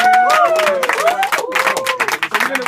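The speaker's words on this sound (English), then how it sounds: "Can we give him a big round of applause?" An event crowd greeting a DJ breaks into a big round of applause mixed with cheering and raised voices; the clapping comes in bursts under the shouts.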